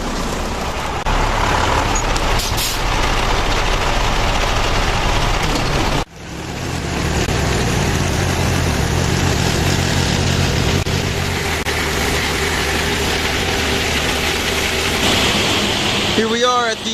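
A truck dumping a load of walnuts into a receiving pit at a walnut huller, heard as a loud, steady rumbling roar of engine and pouring nuts, with a brief dip partway through before the heavy wash resumes.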